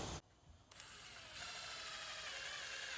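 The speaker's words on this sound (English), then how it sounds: "Right now we're gonna go ahead and drive some screws in" Milwaukee M18 Fuel impact driver on its lowest, first setting driving screws: a steady, close mechanical whirring buzz that starts after a brief pause and grows slightly louder midway, running continuously.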